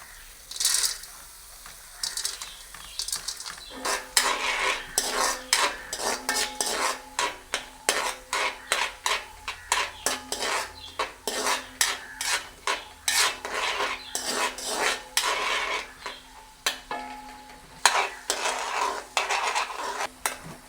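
Peanuts are stirred through melted butter in a pan, giving a steady run of dense scraping and rattling clatter from spoon and nuts against the metal for about twenty seconds, close up with no talking.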